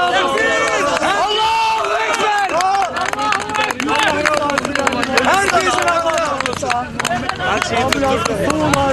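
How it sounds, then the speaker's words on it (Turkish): A large crowd at an earthquake rescue site, where a survivor was pulled out after 139 hours, cheers and chants loudly with many overlapping voices, steady and continuous throughout. "O kadar seviniyorlar ki orada bir tezahürat etme duygusuna bile bürünebiliyorlar"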